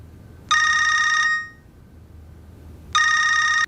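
A telephone rings in two loud electronic trills separated by a pause, close and clear, with no talking.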